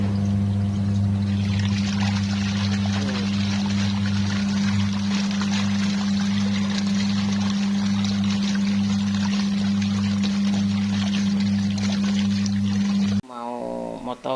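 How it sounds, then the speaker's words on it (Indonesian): A home washing machine runs with a batch of bean sprouts inside, giving a steady low motor hum under constant churning, rushing water for about thirteen seconds before it stops abruptly. "daripada nganggur ya mesin cucinya aku pakai aja"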